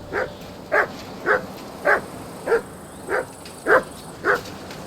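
Dog barking in the video game Kingdom Come: Deliverance 2: eight evenly spaced barks at a steady rhythm, fairly close and clear over a low ambient background.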